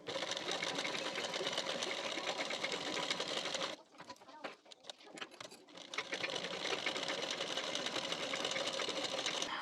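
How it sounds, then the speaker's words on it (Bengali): A sewing machine stitching a boat neck blouse runs in a fast, steady whirring rattle, stops briefly for a few scattered clicks, then starts again at full speed, close and fairly quiet. "এখান থেকে হাফ ইঞ্চ গ্যাপিং দিয়ে এই পর্যন্ত সেলাইটি দিয়ে নিতে হবে"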